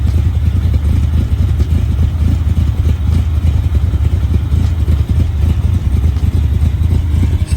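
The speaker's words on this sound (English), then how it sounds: "Let's get a little exhaust clip." Exhaust from a car engine running after a carburetor adjustment, a loud close low rumble with a choppy, uneven pulsing throughout and no talking.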